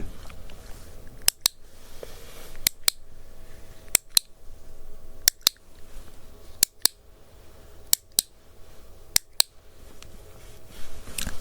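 Sharp clicks come in quick pairs and triplets separated by short pauses, close and crisp against a quiet, faintly noisy background during an ASMR hearing test.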